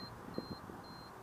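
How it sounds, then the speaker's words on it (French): Thin, high electronic car alarm beeps from a Peugeot 405 TD repeat at a steady pace, quiet and close, over a low background hum with a few soft knocks. "je sais pas pourquoi ça bip comme ça, je pense que ça a un rapport avec l'alarme"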